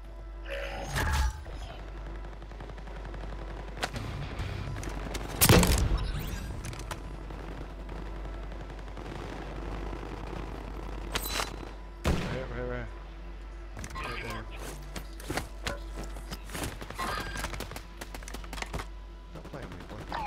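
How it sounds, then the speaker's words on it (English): Scattered gunshots and sharp bursts in a squad-based shooter game, a few loud close cracks standing out among fainter shots, with players talking throughout. "Somebody shooting at me."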